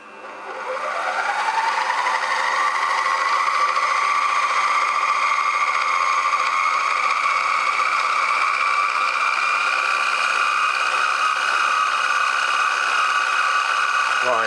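A milling machine running at 1000 RPM turns a carbide insert facemill, giving a steady, close whir with a rising tonal hum. The sound holds constant and alone for the whole stretch.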